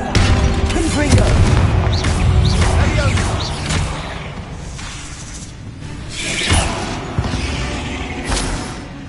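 Confringo blasting spell going off in a wizarding video game, heavy booming blasts that echo over a rumbling background, with a voice calling out spells in between.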